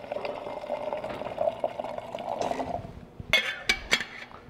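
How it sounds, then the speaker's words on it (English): Water poured into a coffee kettle, a steady trickling pour for about two and a half seconds, followed by a few sharp clinks of the kettle being handled. "I'm going to fill my kettle with a little bit more water."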